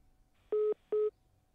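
Two telephone dialing tones during a call-in radio show, each a clean steady beep lasting about a fifth of a second, separated by a short gap, heard alone over a faint background hum.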